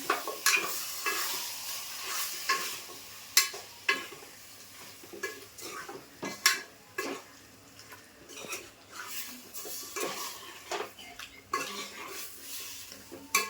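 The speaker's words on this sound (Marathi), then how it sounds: "फोडणीमध्ये ना चिकन असं व्यवस्थित 2-3 मिनिटासाठी परतून घ्यायचं." Country chicken sautéing in hot tempering oil for a Malvani chicken curry, a light sizzle under frequent sharp clinks and scrapes of a spoon against the pan, irregular and close, with no talking.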